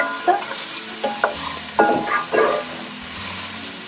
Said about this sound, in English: Yep, browning them up. Keep them moving.